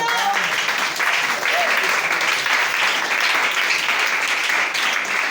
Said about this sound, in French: Acclamez pour ce gars.